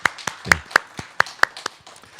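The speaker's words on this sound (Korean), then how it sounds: "우리 회복시켜 주신 우리 주님께 다시 한번 그 은혜 감사의 박수 올려드리겠습니다" Church congregation offering a round of applause: a handful of sharp, scattered handclaps, moderately close, with uneven rhythm, briefly swelling then thinning out over about two seconds.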